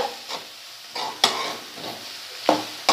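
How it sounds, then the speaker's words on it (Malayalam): A spatula stirs banana flower and coconut thoran in a pan, giving several scraping strokes at a steady rhythm over a soft sizzle, close and fairly loud with no voices. "ഇനി നമുക്ക് നന്നായിട്ടൊന്ന് മിക്സ് ചെയ്ത് കൊടുക്കാം"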